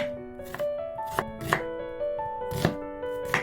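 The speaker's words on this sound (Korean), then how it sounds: "양파를 썰고" Onion sliced with a knife on a cutting board, about seven crisp, close chops at an uneven pace, each cut ringing briefly with a faint tonal hum running underneath.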